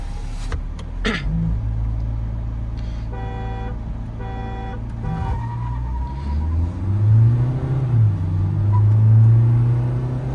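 Mahindra Scorpio N and XUV700 SUVs in an outdoor drag race: a car horn toots in short repeated bursts, then engines rumble and rev louder as the vehicles accelerate, the engine note climbing toward the end.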